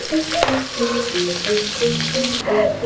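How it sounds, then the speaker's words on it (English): Salted fish frying in a pan, giving a steady close sizzle with crackling bursts throughout, over a faint tonal background. "So I cook the salted fish until light golden brown"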